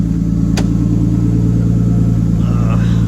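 A Nissan Skyline R33 with an RB25DET engine idles steadily, and its power steering pump is failing. It makes a close, constant low hum with a regular pulse and one brief sharp click early on.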